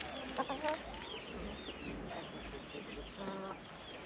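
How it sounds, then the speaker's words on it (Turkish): Broody hens cluck softly in a backyard hobby coop in Taşköprü, Kastamonu, in cold weather. A few short clucks and calls are heard at low volume over a faint background hum. "Anaç tavuklarımız var."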